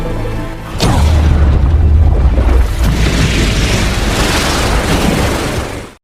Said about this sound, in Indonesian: Sienna kemudian meledakkan bom itu secara manual dan bunuh diri.